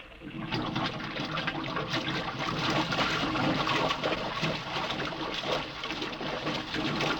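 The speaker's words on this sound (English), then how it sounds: "Water's being pumped out." Water being pumped out of an airlock in a radio drama, a continuous rushing, gushing drain-like flow that holds steady and fairly loud for the whole stretch, with no voices over it.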